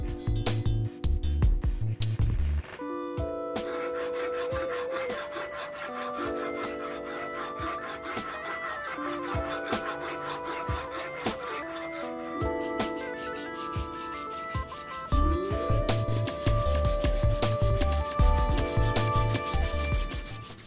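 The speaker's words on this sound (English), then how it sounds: "I used files and a honing stone to get them as clean and flat as possible." Metal filing and honing on a Zoeller M53 sump pump switch housing surface, a steady rasping scrape repeated in long strokes, close and fairly loud with no talk, over a background of tonal music.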